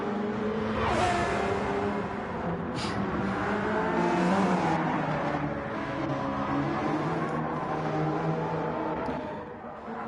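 Race cars in Gran Turismo 7 at the Daytona Road Course, engines droning and shifting pitch as they accelerate and pass close by, a steady loud roar filling the whole stretch and easing off at the end.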